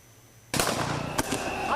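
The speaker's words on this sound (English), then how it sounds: "police firing on thousands of unarmed protesters, killing at least 5 and wounding dozens" Police gunfire aimed at protesters in Kenya erupts out of quiet as a loud, sharp burst of shots with a distinct extra crack about a second later, reverberating across a noisy outdoor street scene.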